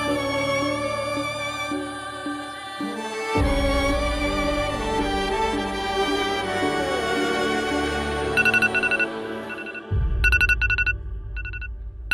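A mobile phone reminder ringtone plays a melodic electronic tune of bright repeating tones that continues through the whole stretch, with short chime-like bursts near the end and no voices over it.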